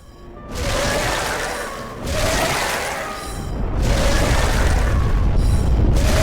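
Storm King stingers striking a house in the Demon's Souls video game, heard as a series of heavy booming rumbles in overlapping waves, loud and continuous with no speech.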